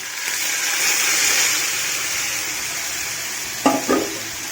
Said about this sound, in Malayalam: അപ്പോൾ സ്ലോ ഫ്ലെയിമിലാണുള്ളത് അങ്ങനെ തന്നെ തുടരാം എന്നിട്ട് അതിലേക്ക് നമ്മളുടെ ബീറ്റ്റൂട്ട് ചേർത്ത് കൊടുക്കും